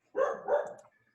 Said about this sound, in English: That's my dog who agrees with me.